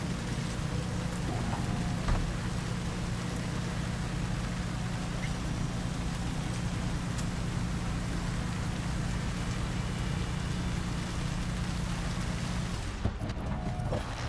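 Steady rain pours down in the Cyberpunk 2077 video game, an even hiss over a low constant hum that cuts out abruptly just before the end.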